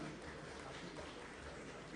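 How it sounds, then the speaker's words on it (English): Steady, dense applause from a crowd at a swearing-in ceremony for new commissioners and special advisers, continuous and fairly close, with no voices standing out. "Let the applause keep coming."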